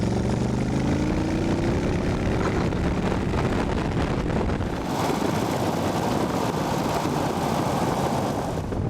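A Dax Rush sports car's big naturally aspirated V8 roars loudly and continuously close by, with rising engine tones and a shift partway through, heavy wind rush over it and no talking.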